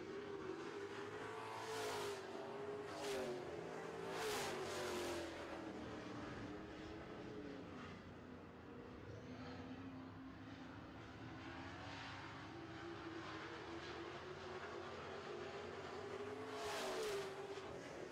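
Super trucks roar around an oval track in a late-lap heat race, a continuous distant engine drone with occasional passing surges and no voices.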